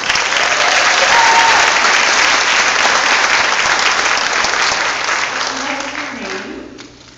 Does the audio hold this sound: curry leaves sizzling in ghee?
no